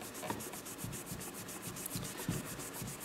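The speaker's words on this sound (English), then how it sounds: "It's like I'm stropping the whole side of my knife." Light abrasive rubbed back and forth along the side of a rusty knife blade, a faint, close, rhythmic scratching with quick regular strokes and no talk.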